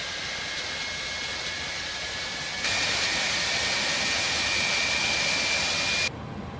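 The APU of an A300-600R freighter in X-Plane 11 runs as a steady turbine whine and broad roar that steps up louder partway through, then drops abruptly near the end; no talk.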